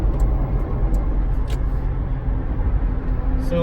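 Nissan Xterra with manual gearbox in fourth gear accelerating onto a highway, a steady low engine drone and road rumble heard from inside the cabin.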